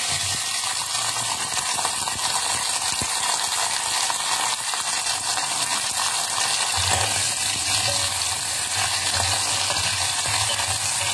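Steady, dense sizzling of washed small sambar onions frying in hot oil, loud and close, with occasional crackles and a brief stirring scrape.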